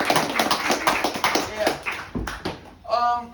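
A workshop audience breaks into applause, a burst of clapping hands from a group, with people speaking briefly near the end.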